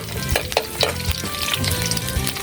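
Garlic stir-frying in a home kitchen pan, a steady sizzle broken by the repeated scrape and clack of a spatula tossing it.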